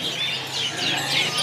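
Canaries chirp at a bird market kiosk, thin high trills and tweets overlapping in a busy stretch, alongside a low steady background hum.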